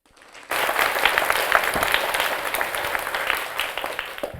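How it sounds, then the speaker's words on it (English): A spelling bee audience breaks into sustained applause after a short quiet lead-in, dense clapping from many hands filling the room at a steady level to the end. "Kindly give them a clap."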